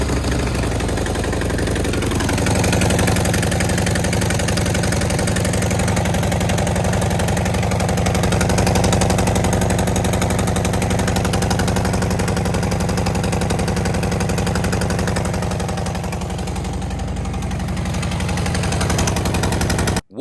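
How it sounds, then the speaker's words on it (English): A Harley-Davidson Road Glide motorcycle with an exhaust leak runs continuously close up, a loud, steady, lumpy idle with a rough pulsing rattle and no talk. "So we can see if it sounds a little bit better."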